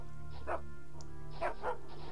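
Dogs barking in the Gothic mod Die Bedrohung, a fantasy role-playing video game: several short, fairly loud barks in an irregular cluster over a steady low background hum.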